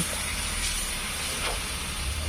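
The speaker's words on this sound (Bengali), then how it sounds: "কষানো হয়ে গেছে কড়াই দিয়ে দিচ্ছি গরম জল" Hot water poured into a wok of simmering fish and new broad-bean curry, giving a steady loud hiss and sizzle that persists throughout, with no talk.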